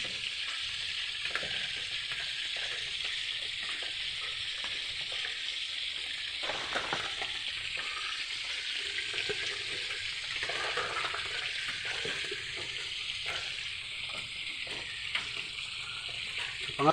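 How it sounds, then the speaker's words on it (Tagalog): Pork pieces frying in a pan make a dense, continuous sizzle with crackling and light stirring scrapes, close and steady throughout with no voices. "Prito-prito muna tayo."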